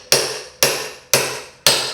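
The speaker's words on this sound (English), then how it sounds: "but just hammer it straight" A hammer strikes a pry bar four times in a steady rhythm, each blow a sharp, loud metallic crack that rings out briefly, driving the bar under a carpet tack strip laid over hardwood flooring.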